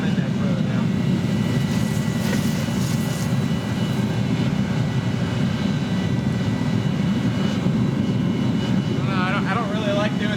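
A propane forge burner roars steadily while heating a billet for a medieval Damascus sword, a loud, constant broadband rush that fills the space without a break, with a faint voice briefly audible near the end.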